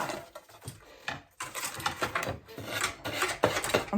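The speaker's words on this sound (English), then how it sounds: "I have to get in there with the sander just another little bit" A sander works over wood in short, uneven scrubbing passes, a close raspy grinding that rises and dips with brief pauses between strokes.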